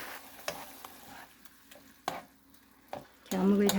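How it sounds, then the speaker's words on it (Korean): Fish cakes are stirred into bubbling seasoning sauce in a pan, giving soft scraping strokes at an uneven rhythm over a quiet simmer, ending in a brief louder burst. "이렇게 어묵을 잘 섞어주고요"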